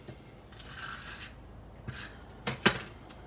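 Paper being trimmed for card making, a few soft rasping slides of a trimmer blade, quiet and close, ending in a couple of sharper strokes.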